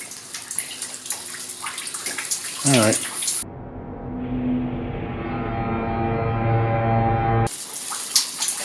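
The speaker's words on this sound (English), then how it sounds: "I have to go back to where this water's coming down" Water pours and splashes steadily down inside an abandoned hospital in South Pittsburgh, a continuous close rushing stream that holds for several seconds between stretches of someone talking.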